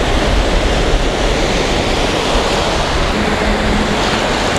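Steady wash of gentle sea waves on a beach in Vung Tau, Vietnam, a soft continuous hiss of surf without distinct breaking crashes.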